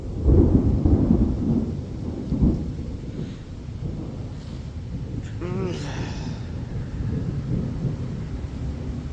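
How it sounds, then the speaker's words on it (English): Thunder rumbles through a rainstorm at a park campsite, a low continuous roll swelling and fading over steady rain, with a brief distant rumble midway and no voices. "This thing is thundering and lightning like no other."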